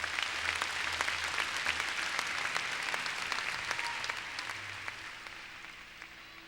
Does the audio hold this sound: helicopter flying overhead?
no